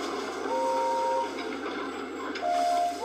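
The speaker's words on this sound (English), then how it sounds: "Yes, that whistle sounds just as important as mine." Two-tone steam engine whistles from a Thomas & Friends train game, heard as a pair of sustained steady blasts, a brief pause, then another two-note whistle, clear and fairly loud over a low background.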